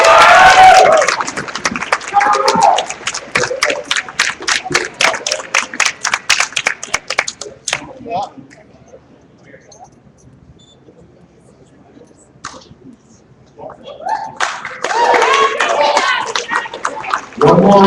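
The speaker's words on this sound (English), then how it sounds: "One more round of applause for the ladies in the 57 kilo ladies open." An audience at a powerlifting meet's awards for the women's 57 kg open class gives dense, lively applause that fades to near silence midway, then swells back into clapping at the end.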